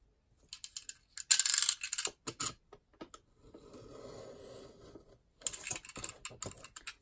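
A large Stanley knife scoring and slicing through card for a mini CD cover sleeve, with short sharp scratchy strokes, a longer low drag in the middle, and quiet tapping handling noises between cuts.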